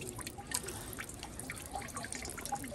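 Water drips and trickles softly at a Shinto shrine, Hirota-jinja in Hyogo, Japan, with scattered faint drops over a quiet, low background.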